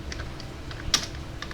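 Typing on a computer keyboard at a moderate pace, with scattered light key clicks and one sharper, louder keystroke near the middle, close and alone with no talk.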